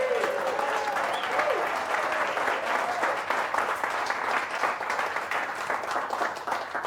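Audience applause fills a live Chef Habitat announcement event, a dense steady wash of many hands clapping that holds for several seconds with a cheer rising briefly near the start.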